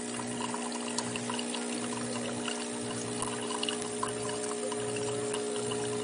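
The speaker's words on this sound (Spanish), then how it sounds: "Ya está saliendo el agua" Hot water pours from a capsule coffee maker using eco capsules, a steady close hiss and trickle running for several seconds with a constant mechanical hum underneath and no talking.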